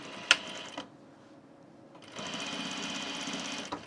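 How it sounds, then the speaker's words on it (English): A sewing machine stitches a fairly straight seam on an unlined blazer, running in a steady mechanical whir for a short burst, stopping, then starting again, with a few sharp clicks between runs. "So now we're sewing this, making sure we're kind of still in the same seam allowance range too."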